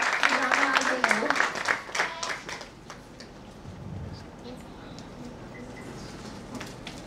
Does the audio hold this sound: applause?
yes